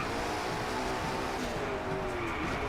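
A McLaren race car in the Driveclub racing game drives on steadily, its engine droning at a sustained, close and fairly loud pitch that rises slightly, with no voices.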